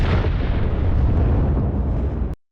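A loud, sustained explosive roar, a deep rumbling blast that holds for a couple of seconds before cutting off abruptly.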